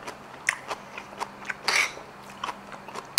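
Kimchi is chewed close to the mic with wet, crisp crunches in an irregular rhythm, about a dozen bites and chews over a few seconds, with no talking.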